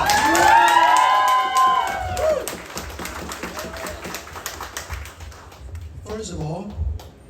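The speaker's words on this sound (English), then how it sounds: "Give him a big applause." A crowd at a community appreciation event in Oakland's Little Saigon claps and cheers to welcome a guest, with loud shouts early that fade into lighter clapping and talk.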